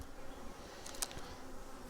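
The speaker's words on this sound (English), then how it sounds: "Now the bees are coming after me a little bit, as you can see, but they're not crazy, at least not yet" Aggressive honey bees buzz around a hive, a faint steady hum with one bee darting close past the microphone in a brief, louder zip.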